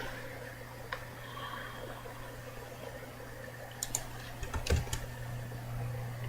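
A short burst of computer keyboard key presses near the five-second mark, a quick cluster of clicks over a steady low electrical hum and faint fan noise.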